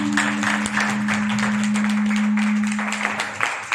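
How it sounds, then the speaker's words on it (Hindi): A congregation claps loudly for Jesus during a sermon, a sustained burst of crowd applause with a steady tone humming underneath. "यीशु के लिए जोरदार ताली बजाएं।"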